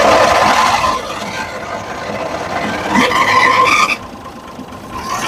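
A homemade RV's Perkins diesel engine, parked for 30 years and lacking glow plugs or an intake heater, is cold-started, giving a close, steady whirring and churning that drops off sharply near the end, with no talking.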